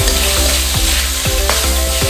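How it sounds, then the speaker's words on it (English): Chicken stir-fried with dark soy and oyster sauce in a wok, a loud close sizzle with regular scraping strokes of the spatula about every half second, no talk. "Just keep it all moving, we don't want to burn this on the bottom of the wok."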